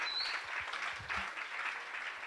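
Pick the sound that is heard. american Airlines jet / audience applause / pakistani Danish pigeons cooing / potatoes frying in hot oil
audience applause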